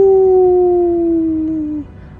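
A human voice imitates a wolf howling with one long, loud, sustained tone that slides slowly downward and cuts off after nearly two seconds.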